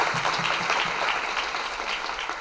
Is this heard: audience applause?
yes